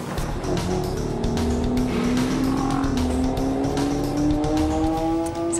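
The H2R race car makes a record run, its engine note climbing steadily through high-pitched revs with some tire squeal, loud and sustained with no voices.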